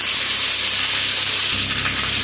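Curry leaves hit fenugreek seeds already frying in hot oil for a fish kulambu, giving a loud, steady crackling sizzle that flares briefly with fresh spitting as the leaves go in.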